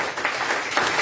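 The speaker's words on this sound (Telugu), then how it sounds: "చప్పట్లు దేవుని మహిమపరచండి" A church congregation claps in praise of God, a brief burst of dense, uneven clapping from a crowd that stays at a moderate level for about a second.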